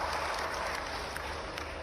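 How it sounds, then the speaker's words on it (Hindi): Crowd at a political rally applauding to welcome a guest, a steady wash of many hands clapping that stays even and moderately loud throughout with no voices breaking through. "इनके लिए भी जोरदार ताली बजाएं।"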